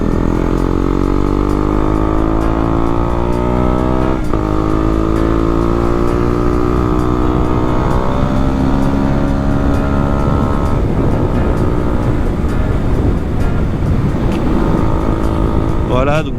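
A KTM Duke 125 motorcycle engine drones steadily while riding, revving up and down through gear changes, with constant wind rush and a voice talking over it.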